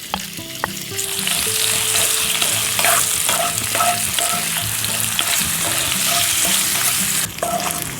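Marinated chicken sizzles in hot oil in a pan, a steady, loud, close fry with occasional clinks and scrapes of stirring and no talk.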